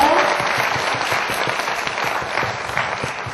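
Audience applause at a book talk event, many hands clapping in a steady, fairly loud wash with individual claps standing out, slowly tapering toward the end.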